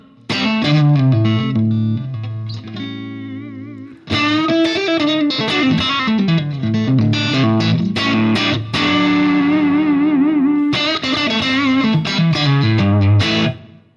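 An electric guitar played through a Fractal amp modeler with only amp, cabinet and reverb blocks active, sounding distorted and sustained, with strummed chords and ringing notes in phrases that pause briefly, loud and close.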